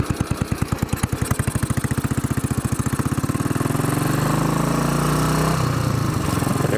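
A Royal Enfield Bullet 500 Iron Barrel motorcycle engine thumps loudly up close, slow single-cylinder pulses that quicken into a dense, steady roar as it revs, with no voices.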